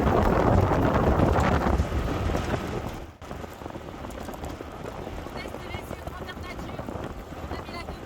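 Steady roaring wind buffeting a roof tent on a moving vehicle at 40 to 50 km/h, loud and broadband, easing slightly after a brief dropout midway, with a voice speaking over it.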